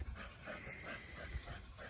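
A dog pants quickly and rhythmically close by, soft breaths repeating in a steady pattern at low volume.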